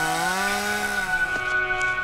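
A chainsaw runs steadily at high revs during logging work in the mountains. The engine drone is close and loud and holds for two seconds, with no voices.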